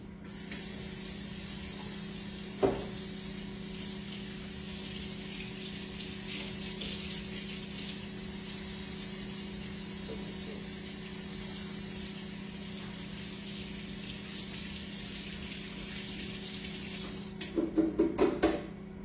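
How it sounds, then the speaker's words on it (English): Water runs steadily from a kitchen tap during hand washing, a constant close hiss that lasts throughout, with a brief knock early on and a few clattering splashes near the end. "now let me wash my hands"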